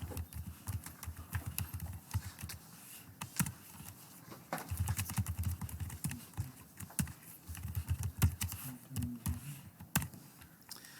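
Computer keyboard typing while a program is written during a switch statement programming lecture, with steady clusters of close, crisp key clicks and occasional louder taps running throughout, no talking.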